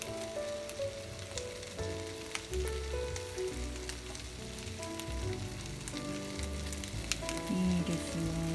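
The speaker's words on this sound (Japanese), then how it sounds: "カリカリと音がしてきました。" Eel grills skin-side down in a pan with a steady, quiet sizzle and fine crackling pops, heard up close and alone throughout.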